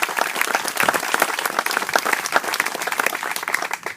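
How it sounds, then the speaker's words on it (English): An outdoor groundbreaking-ceremony crowd gives a round of applause, many hands clapping in a loud, dense, crackling burst that holds steady for several seconds before tapering slightly at the end, with no talking over it. "let's give them all a round of applause"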